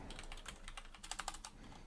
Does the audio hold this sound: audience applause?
no